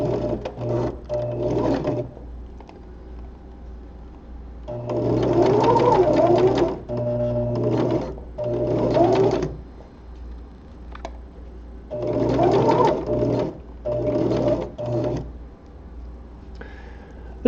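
A sewing machine stitches spandex fabric into gloves in repeated bursts of rapid, close mechanical chatter, stopping and starting as the fabric is moved, with no talking.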